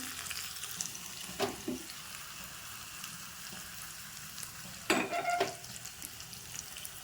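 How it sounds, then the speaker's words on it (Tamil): Crushed garlic, cumin seeds, fenugreek and onion fry in hot oil in a pan with a steady, close crackling sizzle, broken by two louder bursts of spattering and stirring. "2 சீரகம், 2 பூண்டு தட்டி போட்டு, வெங்காயம் இதெல்லாம் போட்டு நல்லா பொரியட்டும்"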